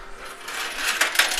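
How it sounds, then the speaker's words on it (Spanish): Coins slide and clatter in an arcade coin pusher machine, a bright metallic jingle building to a couple of sharper drops near the end, close and fairly loud. "Monedas resbalando bien y bonito."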